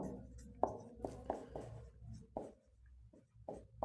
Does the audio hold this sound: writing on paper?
yes